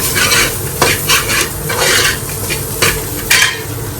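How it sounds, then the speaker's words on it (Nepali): Onions fry in a hot pan for egg curry while being stirred, producing a loud, continuous sizzle broken by repeated scraping and clinking strokes of the utensil against the pan. "यहाँ चाहिँ प्याज हालेर टक्क रातो बनाउँदैछु प्याजलाई"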